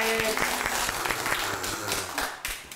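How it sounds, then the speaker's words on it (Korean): Villagers clapping together in a rural hamlet, a short burst of close hand claps with voices mingled underneath, fading toward the end. "박수 한번 주셔야 돼요"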